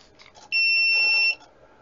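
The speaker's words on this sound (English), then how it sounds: "And if I transmit now, it starts beeping because the SWR is close to 3." SWR and power meter alarm on a ham radio station sounding one sharp, steady electronic beep of under a second while the untuned antenna is keyed, loud and close over quiet room noise.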